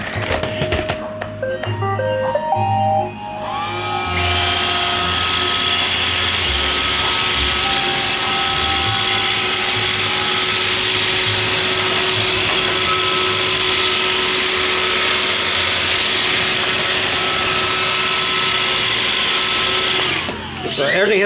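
An iRobot Roomba 561 robot vacuum runs nearby with a steady whirring motor and brush hum, starting after a few brief clicks and beeps and continuing evenly until it stops near the end.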